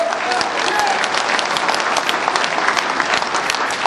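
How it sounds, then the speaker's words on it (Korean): Loud, dense applause from a crowd at a Korean election campaign office opening ceremony, steady and continuous throughout with no pauses. "여러분 박수 주십시오."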